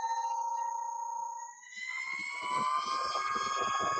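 A Begode ET Max electric unicycle sounds its power alarm, a steady high electronic tone that shifts into a harsher, pulsing warble, loud and close with no talking.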